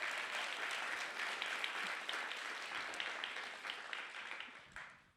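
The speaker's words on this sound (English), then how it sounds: "Let's give them a big round of applause." Steady applause from a crowd, a dense wash of clapping that holds for several seconds, then gradually thins and fades out, heard at moderate distance.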